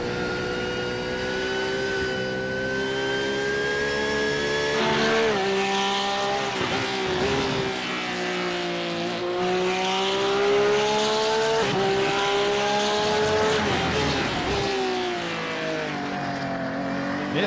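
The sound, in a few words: mid-engine Porsche race car engine in a racing game at COTA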